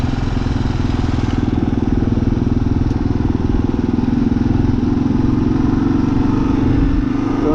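A 2023 Kawasaki KLR 650 motorcycle is ridden on dirt, with a loud, steady single-cylinder engine drone close to the microphone under rushing wind noise.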